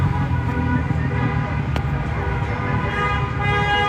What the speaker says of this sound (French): Ça klaxonne de partout.